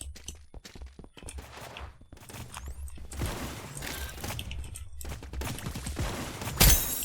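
Rapid bursts of paintball gunfire from the Roblox game BIG Paintball 2, quick crackling shots in clusters with a sharp loud pop near the end, under quiet game ambience.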